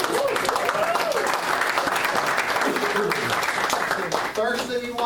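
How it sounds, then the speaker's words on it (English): A room full of members at a Republican men's club meeting breaks into sustained, loud applause, with some voices and cheering mixed in near the end. "Please give yourself a round of applause."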